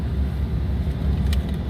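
A Toyota Tacoma pickup idles in snow, a steady low engine rumble close by, with a faint brief hiss near the end.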